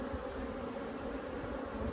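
Honeybees buzz during a hive inspection while queen cells and brood are being checked. The low drone is close, steady and continuous throughout, with no voices over it.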